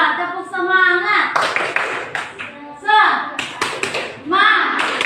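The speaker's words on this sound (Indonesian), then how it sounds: "Coba tepuk semangat." A classroom of students performs a rhythmic spirit clap, bursts of patterned hand claps mixed with shouted children's voices chanting along, loud and close, in several grouped phrases.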